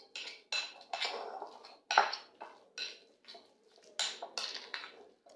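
Plantain bun dough being mixed in a bowl, a series of separate clinks and scrapes of utensil against the bowl at an irregular rhythm, close and fairly quiet.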